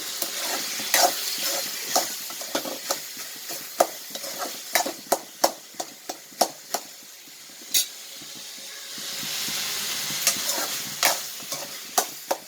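Spices and ingredients for a stingray fish theeyal are sautéed in a pan. Many close spatula clacks and scrapes sound in uneven bursts over a light sizzle that swells briefly toward the end.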